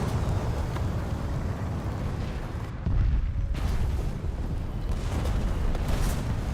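Bombs burst in War Thunder as a continuous, heavy, low rumble of explosions. A sharp new blast hits near the middle, and the roar rolls on loudly throughout.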